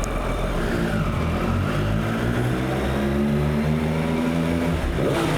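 A Triumph Daytona 765 Moto2 Limited Edition motorcycle engine idling and revving in an underground garage, a loud continuous close-up drone with rising and falling pitch that echoes off concrete.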